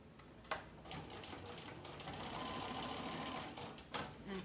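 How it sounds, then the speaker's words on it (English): Sewing machine back stitching a fabric basket, a quiet continuous whirring run of rapid stitches with a couple of sharp clicks at start and end. "a little bit of back stitch so that the hole doesn't keep growing"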